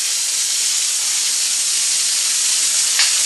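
A plasma cutter slices through metal with a loud, continuous, steady hiss that stays close and even throughout, with no talking.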